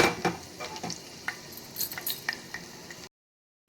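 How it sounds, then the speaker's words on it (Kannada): Garlic frying in a pan over a low flame for Andhra-style pappu rasam: a soft, quiet sizzle dotted with light clinks and scrapes of a utensil, then cutting to silence near the end. "ನೋಡಿ ಬೆಳ್ಳುಳ್ಳಿ ಸ್ವಲ್ಪ ಫ್ರೈ ಆಗಲಿ"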